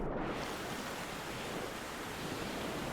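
Ocean waves in the Stormworks game around a capsized ship, a steady, dense rush of surf and wind noise, continuous and fairly loud with no talking.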